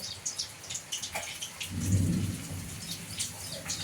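Steady rain patters outside in a village with scattered drops, and a low rumble of thunder swells briefly in the middle before fading.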